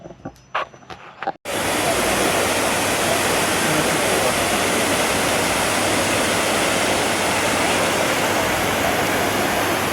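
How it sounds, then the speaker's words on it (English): Rome's Trevi Fountain rushes and splashes in a loud, dense, unbroken wash of falling water. It starts abruptly after a brief quieter moment and then stays constant and close throughout. "This is the Trevi Fountain, beautiful."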